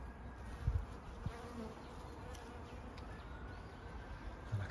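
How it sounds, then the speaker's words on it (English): Honeybees buzz faintly outdoors on a spring day near a garden hive, a soft continuous drone with a few closer passes rising briefly above the quiet background. "one of our honeybees out and about"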